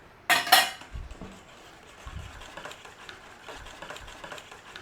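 Beaten eggs are mixed into a carbonara casserole, starting with a sharp metallic clink and then turning into soft, wet clicking and light tapping from the utensil, close and fairly quiet.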